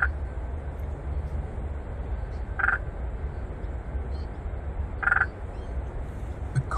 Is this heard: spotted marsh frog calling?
yes